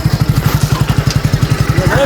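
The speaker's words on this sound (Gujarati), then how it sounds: "ચલો ભાઈ ચાલુ કરો બાઈક." A motorbike engine idles with a loud, even, rapid throb of regular pulses close by, and a faint voice rises briefly near the end.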